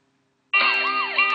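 A fire engine siren from a firefighting education video game starts abruptly after half a second of near silence, then sounds loud and continuous with a wavering wail.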